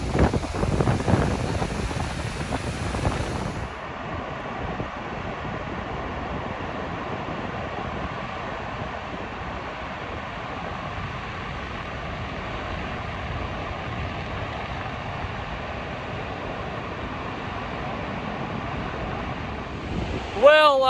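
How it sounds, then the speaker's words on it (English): The largest waterfall in Norway's Husedalen valley pours as a steady broadband rush of water. A louder burst of noise at the start drops to a constant even roar that carries on to the end. "finally made it to Waterfalls, which is the last and the biggest of the Husedalen waterfalls"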